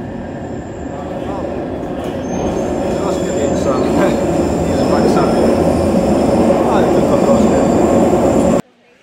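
Barcelona metro train running underground near Sagrada Familia, a loud steady rumble of wheels and carriage noise building over several seconds before cutting off abruptly.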